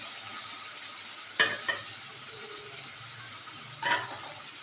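Onions softening and sizzling in a pan, a low steady frying hiss with two or three sharp stirring scrapes standing out, close and fairly quiet with no talking.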